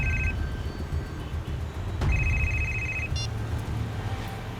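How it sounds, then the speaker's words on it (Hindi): A phone rings inside a moving car with an electronic ringtone: two short bursts of bright beeping tones over the low, steady hum of the vehicle, with a faint click in between. "इसी वक्त एक फोन आना था,"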